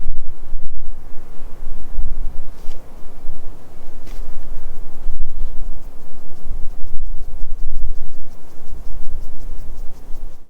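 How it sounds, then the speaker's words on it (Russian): A light, cool breeze blows across a Tian Shan mountain ridge near Almaty, heard as gusty rumbling wind buffeting the microphone throughout, with no talking. "Ветерок такой прохладненький, но слабый."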